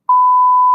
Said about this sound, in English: It's too long of a beep. I need to fix my beep.